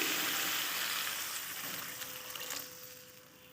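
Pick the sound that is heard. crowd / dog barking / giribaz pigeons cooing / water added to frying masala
water added to frying masala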